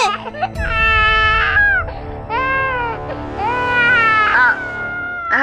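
A baby boy cries loudly and continuously up close, with wailing, rising and falling sobs and brief whimpering breaths between them.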